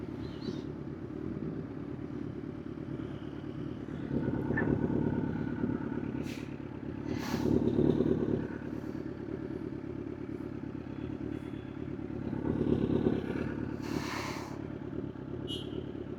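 A group of motorcycles idles and rumbles in a parking area during a Sunday group ride, a steady low engine drone with occasional swells as bikes rev and pass nearby, plus scattered clatter.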